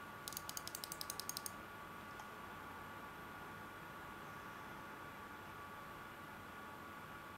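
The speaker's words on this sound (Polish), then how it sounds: "Wiele osób pewnie też zapyta o hałas takiego peceta." Small form factor gaming PC under load, its fans giving a steady, even whooshing hum throughout, with a short burst of keyboard typing near the start.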